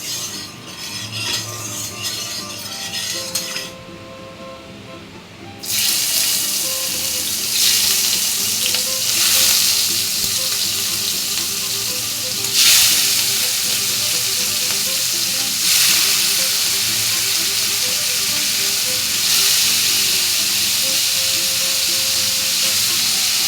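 Prawns frying in a pan give a loud, steady sizzle that briefly drops out near the start, then returns at full strength and keeps hissing with no talk.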